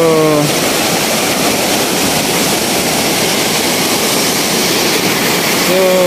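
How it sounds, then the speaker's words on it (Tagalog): A flooded river rushes with great force, a loud continuous roar of churning water filling the whole stretch, with a voice speaking briefly at the start and end. "Ganito yung ilog dito sa amin pag buma, sobrang lakas"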